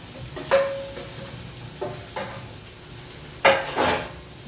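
Onions and tomatoes fry and are stirred in a pan, giving a steady low sizzle. A few scraping stirs and metallic clinks of utensil on pan stand out above it, alone without talk.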